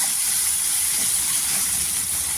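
Ginger garlic paste sautéing in hot oil, a bright continuous sizzling hiss that stays loud and even throughout.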